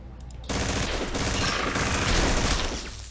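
Loud continuous rapid-fire SMG bursts from the Red Faction 2 video game start abruptly and rattle for about three seconds, dense and close.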